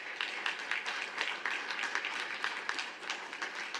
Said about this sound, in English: Can we give the Ministry's team a round of applause?